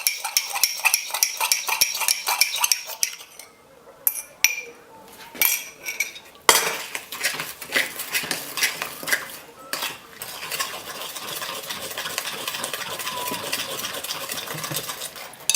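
A spoon and fork beating a pastry mixture for medieval almond pastries in a bowl, producing steady rapid clinking and scraping of metal against the bowl, briefly pausing before resuming.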